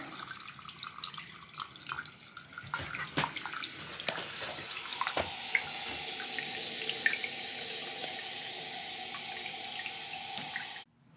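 Water pours steadily from a newly installed bathroom sink faucet, a close, continuous hiss and splash lasting about ten seconds after a few clinks and knocks at the start, then cutting off abruptly at the end.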